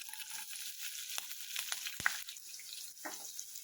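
Chopped green chillies fry in hot oil alongside whole spices for a spicy cabbage masala, a faint, steady sizzle broken by a few sharp crackles and spatters.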